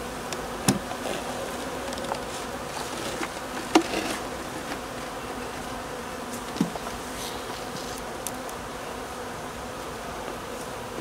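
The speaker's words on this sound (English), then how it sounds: "there's actually quite a lot of bees in there" Honey bees buzzing around a beehive super during a honey harvest, with a dense, continuous drone and several louder individual bees passing close to the microphone. No one speaks.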